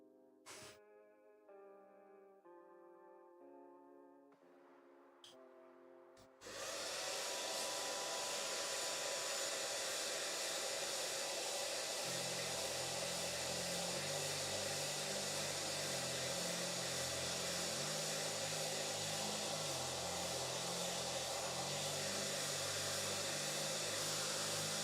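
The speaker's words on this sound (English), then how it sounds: "Hairdryer time again." A few soft musical tones, then a hair dryer in Space Marine 2 switches on and roars loudly and steadily, with faint music continuing underneath.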